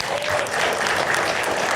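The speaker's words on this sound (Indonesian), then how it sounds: "Aplaus untuk anak muda topi merah." A live studio audience claps for a young man in a red hat, dense even applause held for a couple of seconds with no pause.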